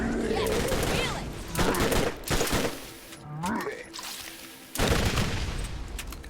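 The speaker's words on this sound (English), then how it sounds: "I missed all of those shots." Dense bursts of gunfire from the video game Borderlands, rapid shots and explosions loud and continuous through most of the stretch with a brief lull in the middle.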